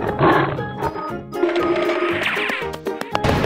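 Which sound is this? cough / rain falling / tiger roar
tiger roar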